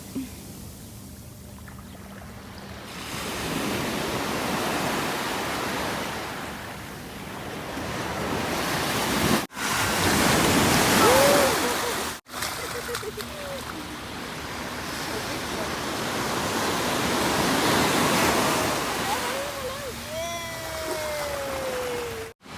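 Sea waves roll onto Bournemouth beach in England on a warm summer day, a continuous washing surf with gusts of wind buffeting the microphone and faint voices in the background.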